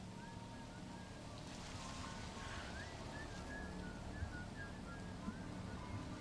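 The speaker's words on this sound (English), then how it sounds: "Peaceful whistling." Faint, wavering whistled tune from a character in the video game The Sinking City, drifting over a steady wash of sea-like wind and water ambience, with no talking.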